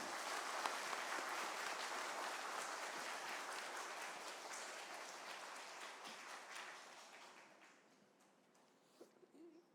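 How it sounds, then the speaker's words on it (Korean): A church congregation at a pastor ordination service welcomes a newly ordained pastor with warm applause that holds steady for several seconds, then fades out, leaving a few faint sounds near the end. "인사하실 때 박수로 환영해 주시기 바랍니다"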